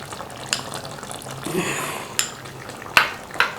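A spoon scrapes and clinks against a pot while cream is stirred into cooked chicken, with soft wet swishing and a few sharper metallic taps spaced irregularly, close up and moderately loud, with no voices.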